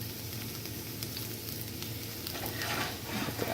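Three or four cloves of crushed garlic frying in a hot pan give a steady, close sizzle that grows slightly brighter toward the end, with no talking over it.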